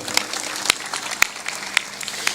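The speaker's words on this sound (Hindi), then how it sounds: "थोड़ा जोर से ताली बजाया करो।" Audience clapping at a spiritual discourse, a few loud, sharp, rhythmic claps rising above a soft background patter, spaced about half a second apart.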